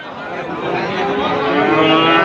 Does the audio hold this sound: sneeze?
no